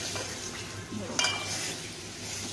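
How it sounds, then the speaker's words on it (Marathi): Marinated mutton frying in masala while being stirred in a pan, a steady close sizzle with soft scraping and a brief clink of a utensil partway through. "भाजल्यानंतर त्याच्यात आपण जे मटण मॅरिनेट केलेलं होतं ते टाकायचं"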